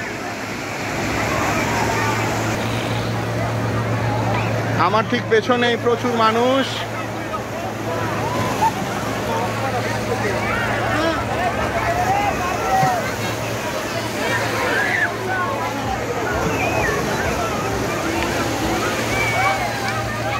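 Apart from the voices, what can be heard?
large sea waves crashing at Patenga beach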